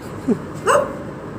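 Dogs bark twice at an address stop of a Food Panda delivery rider in the Philippines: a short yip, then a louder bark with a whiny tail, both near and over steady outdoor background noise.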